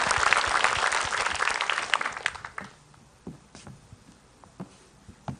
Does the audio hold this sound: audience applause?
yes